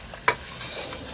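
A gongura paste mixture for chicken biryani is stirred in a pot, with one sharp utensil scrape against the pan over a soft, brief sizzle.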